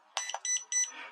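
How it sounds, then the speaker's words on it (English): Hobbyzone FAZE nano quadcopter transmitter emitting a pair of short, clear electronic beeps in quick succession, close and isolated against a quiet background. "If I press this stick in once, those two beeps means it's medium."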